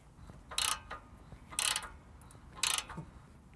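Three bursts of rapid ratcheting clicks from a socket wrench turning an oil pan bolt on a Honda Ridgeline, evenly spaced about a second apart and close up, with quiet gaps between them.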